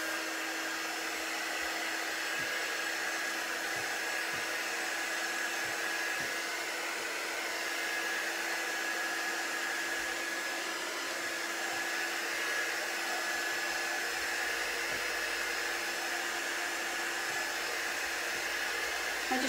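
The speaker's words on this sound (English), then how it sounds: "So I have this lovely little heat gun here. It helps to blow a little bit of air, but it's got great heat." A small heat gun blows hot air over taped, varnished edges, making a steady, even hum and airy hiss that runs alone without pause at moderate, close-up volume.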